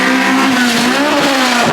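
A Nissan R32 GTR launches on a track lap, its engine screaming loud and steady at high revs under load, close and continuous with no voices.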